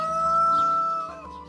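A rooster crows loud and close in a sustained, tonal call that holds steady before trailing off, with no talking over it.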